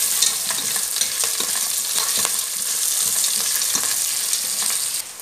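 Peanuts fry in a hot pan while being stirred, giving steady close sizzling with repeated scraping and clattering strokes of the spoon, with no voice over it.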